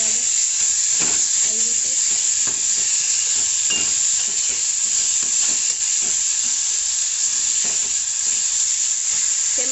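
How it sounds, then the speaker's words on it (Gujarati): Boiled cluster beans and raw mango get stirred into a hot tempering, giving a loud, steady close-up sizzle and hiss with faint rhythmic stirring strokes underneath, while a voice briefly speaks over it. "હવે આપણે બધું મિક્સ કરી લઈશું"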